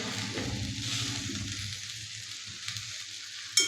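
Okra stir-frying in a pan with chilli and coconut, a steady close sizzle with scraping stirs and a sharp clink near the end, no voices.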